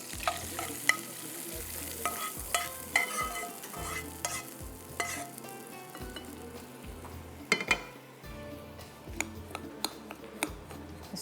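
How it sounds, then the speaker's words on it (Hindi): Butter is stirred in a pan for a chocolate dessert with a soft sizzle underneath, giving repeated scraping strokes and occasional sharp utensil clinks against metal, close and fairly quiet, with no talking. "चलिए जी, मक्खन मेल्ट हो गया।"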